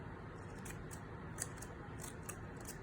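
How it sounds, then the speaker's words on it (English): Scissors snip through paper while a small paper sculpture is shaped, a string of quick, crisp cuts that come through faintly and close up, with no talking. "I'm being very careful with the scissors."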